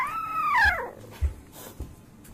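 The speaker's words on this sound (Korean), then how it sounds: "잠든 강아지가 짖고 있는 소리네요" A sleeping puppy barks in its sleep: one drawn-out, rising and falling whimpering yelp followed by a few soft muffled woofs, close and fairly quiet.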